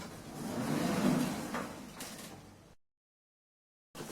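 Elevator doors at a Hong Kong footbridge-to-roof lift sliding shut with a steady rumbling glide that fades to silence, followed by a faint new sound at the very end.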